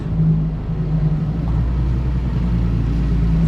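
A 2018 Ford Explorer Sport 4x4 engine idles steadily and smoothly, a continuous low rumble with a faint hum, fairly close and even in loudness throughout.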